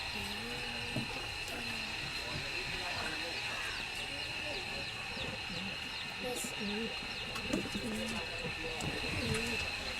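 Pigeons coo repeatedly in soft, rhythmic phrases close by, under a constant hiss of background noise with a voice talking at moments.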